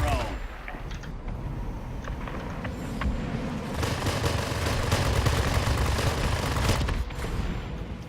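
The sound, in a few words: F-84F fighter guns firing, World of Warplanes video game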